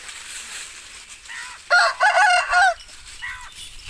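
An Aseel rooster in Dinga Chak, Mandi Bahauddin, crows once loudly and close, a long multi-part crow rising out of quiet surroundings with faint clucks before and after.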